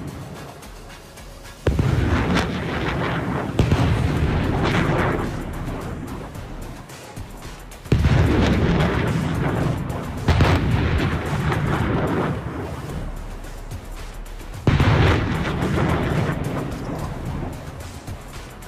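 HIMARS rocket artillery of the Michigan Army National Guard's 1st Battalion, 182nd Field Artillery fires GPS-guided munitions during a winter live-fire exercise: four heavy booms, each followed by a long rolling rumble that fades before the next.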